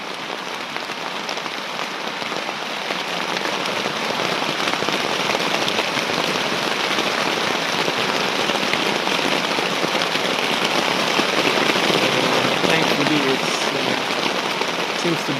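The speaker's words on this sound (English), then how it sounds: "So let's listen to the sound of the rain." Heavy rain pouring down in a forest during a May downpour, a dense steady hiss of drops on leaves and surfaces that grows slightly louder after the first few seconds and continues unbroken at close range.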